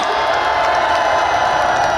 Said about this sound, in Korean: 박성근 대표님 다시 한번 큰 박수로 합성으로 맞아주십시오